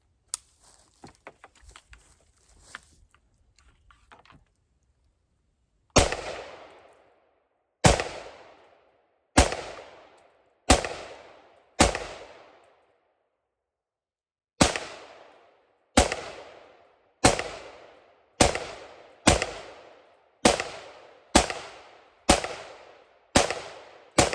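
Rifle chambered in 5.56 fired outdoors in woods: a string of about fourteen loud, sharp gunshots with decaying echoes, spaced irregularly after a quiet start with faint rustling.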